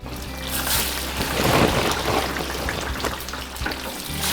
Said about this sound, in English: Notice how when you drop those fries in, they have a little bit of ice on them, not much.